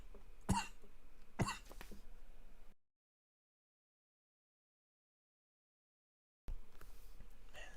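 Two sharp coughs close together, followed by a long stretch of silence before faint background noise returns.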